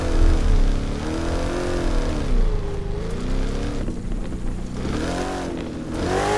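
A Chevrolet Silverado 1500 pickup truck engine in The Crew 2 racing game drones and revs loudly and continuously, its pitch rising and falling in smooth sweeps with no talk over it.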